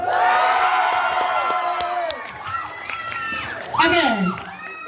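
Crowd at a student election candidate debate cheering and applauding, a loud sustained roar with shouts and whoops while a voice speaks over it.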